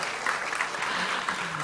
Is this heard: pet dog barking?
no